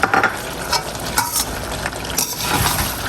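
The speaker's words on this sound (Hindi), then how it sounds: "और कटे हुए छिले हुए टमाटर 2 मैंने डाले।" Chopped, peeled tomatoes go into a frying pan of chicken, followed by stirring scrapes and a steady sizzle, with louder clatter at the start and a building fry toward the end.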